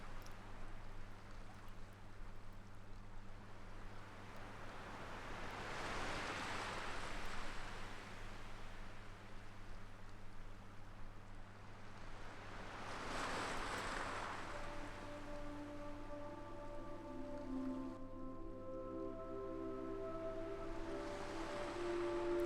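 Sea waves rolling and washing in a slow, swelling rhythm, blended with a steady deep brown-noise hiss and a low hum, and a faint tonal drone entering near the end; no talking.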